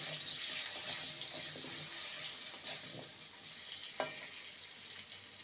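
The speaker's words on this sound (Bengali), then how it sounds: "আলুটাকে ভেজে নেব" A large potato, seasoned with a little salt and turmeric, fries in a pan with a soft, even sizzle and a few faint clinks of a utensil, fairly quiet and with no one speaking.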